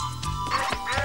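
A frog croaks in a short series of close, rasping calls, repeated in quick pulses over a steady background hum.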